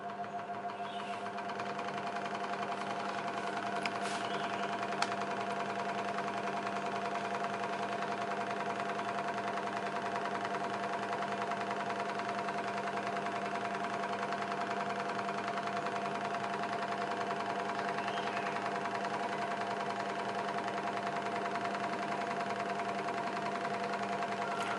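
A Pazto 16-inch scroll saw runs at medium speed, giving a steady mechanical buzz with a fast reciprocating chatter and a constant motor hum that hold an even level throughout, close by and with no voices.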